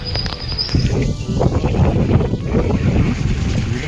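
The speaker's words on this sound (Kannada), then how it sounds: "ಗಾಳಿ ಅಂತೂ ವಿಪರೀತವಾಗಿದೆ ಇಲ್ಲಿ" Strong wind roars and buffets the microphone on a rain-soaked monsoon hill, a loud continuous rush with rumbling low gusts throughout.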